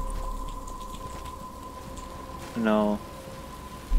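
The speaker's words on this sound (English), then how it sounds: "But it's starting to rain." Steady rain falls in the video game Batman: Arkham Asylum, a continuous hiss that holds across the whole moment, with a brief voice cutting in near the end.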